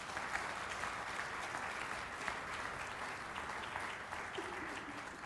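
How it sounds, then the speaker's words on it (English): Audience applause at a film festival awards show, continuous dense clapping from a large crowd, heard faintly and evenly without pause. "Please give them all a big round of applause."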